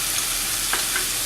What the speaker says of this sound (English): So I have added 3 spoons of oil to roast these onions.